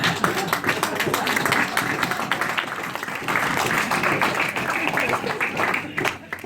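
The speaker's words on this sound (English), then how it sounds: "Don't clap, you'll just encourage me." Audience clapping at a storytelling performance, a dense, steady patter of many hands that carries through and fades toward the end.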